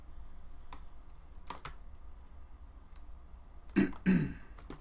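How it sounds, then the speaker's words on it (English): Two short, gruff throat clearings near the end, close by, after a quiet stretch with a few soft taps. "Sorry for the coughing or throat clearing."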